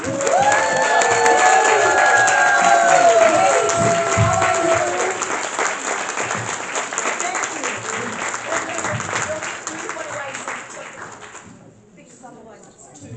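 A crowd gives a big round of applause with cheering and whoops, loud and sustained for about ten seconds before fading, with voices shouting over it early on.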